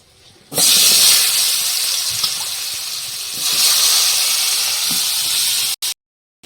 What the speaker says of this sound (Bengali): দিয়ে আলুটা ছেড়ে দিই আলুটা ভেজে নেবো